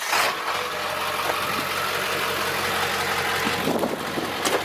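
A car's swapped-in Toyota 1JZ engine idles steadily nearby with a low, even rumble and slight knocking, no voices over it.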